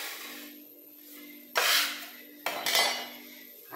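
Pastry dough made with pork lard is worked on a board, with two loud, close rubbing and scraping bursts over faint background hum and no voices.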